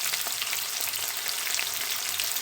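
Onions sizzle steadily in a hot pan with toasted aromatics for ginataang manok, a constant close frying hiss with light crackles and faint stirring.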